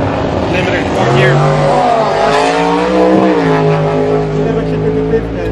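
A Mitsubishi Evo 8 on a drag strip holds its engine on the rev limiter in fourth gear, a loud, steady, buzzing drone close by, with voices talking over it.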